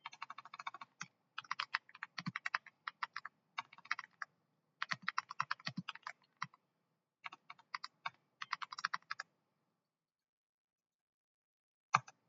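Typing on a computer keyboard, with quick clusters of crisp key clicks separated by short pauses, close and quiet, then a long silence and one last keystroke near the end.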